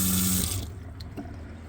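Water runs from a tap fed by a water pump, a steady close rush that cuts off abruptly after about half a second, leaving faint drips and quiet room tone.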